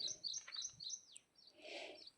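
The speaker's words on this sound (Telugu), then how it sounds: "పక్షి అరుస్తుంది" A bird near a turmeric field chirps in a series of short, bright tweets followed by a longer, softer call, fairly faint against a quiet outdoor background.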